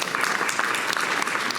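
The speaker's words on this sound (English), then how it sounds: "Let's give a round of applause for that." A crowd claps in a sustained, dense round of applause at a school district's state-of-the-district address, steady and fairly loud throughout with no pause.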